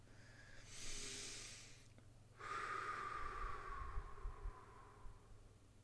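Slow deep breathing during a guided meditation, a long airy inhale followed by a broader exhale with faint low snorting noise, close and quiet with no talk.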